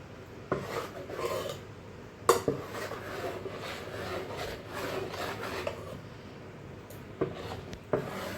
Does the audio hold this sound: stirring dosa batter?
yes